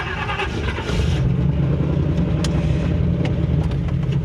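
A square body dually truck drives around a yard, its engine revving up and then rumbling steadily at close range, with a few faint clicks and knocks over the running motor.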